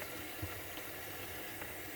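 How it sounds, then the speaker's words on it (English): Hot water runs from a kitchen tap for rinsing dishes, a steady, dense hiss of flowing water, close and unbroken throughout. "turn on the hot water"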